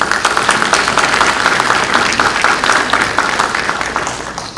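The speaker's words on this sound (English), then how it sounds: "They deserve another round of applause." Sustained, loud applause from an audience at the Cullman City Schools Foundation 2019 event honoring Teacher of the Year recipients, a dense clapping wash that tapers slightly toward the end.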